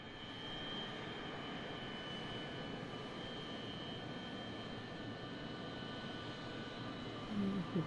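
A steady, faint MD-80 jet engine drone with a constant whine holds through an unbroken stretch as the airliner taxis in a flight simulator, with no voices.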